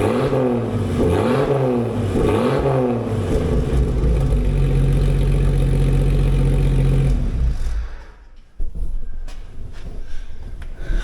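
A Jeep engine breathes through a custom-built exhaust with loud, close revs rising and falling, then a sustained throaty hold before it cuts back to a rough idle.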